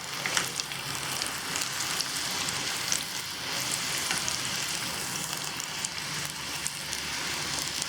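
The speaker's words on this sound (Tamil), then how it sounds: "அதுக்காக இது கொஞ்சம் ப்ரௌனாக மாறுற அளவுக்கு ஃப்ரை பண்ணிக்கணும்." An ingredient fries in hot oil until brown while kara boondi is being made, giving a dense, even crackling sizzle like light rain that holds steady and close throughout.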